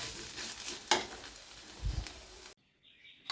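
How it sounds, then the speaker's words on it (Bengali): Ghetkol leaf mash is stirred in a pan with soft frying hiss, scraping strokes and a dull knock, close and fairly quiet, before cutting to near silence with a faint chirp. "এটাকে ভালো করে নেড়ে নেড়ে রসটাকে মেরে ফেলতে হবে।"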